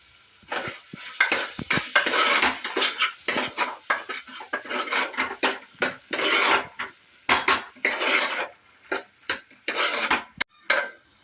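Potato and egg gravy with chilli powder and chicken masala stirred in a metal pan, a steady run of scraping and clinking utensil strokes, close and fairly loud, with no talk.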